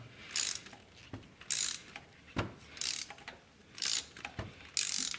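Hand ratchet working spark plugs out of an Audi A4 engine, six bursts of quick clicking pawl strokes in an uneven rhythm with short pauses between, close and fairly quiet, no voices.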